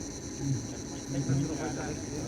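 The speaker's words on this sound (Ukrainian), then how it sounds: "І прокинулися цикади" Cicadas drone in a steady, high, continuous buzz at Lekuresi Castle in Saranda, Albania, holding level throughout while low voices murmur faintly underneath.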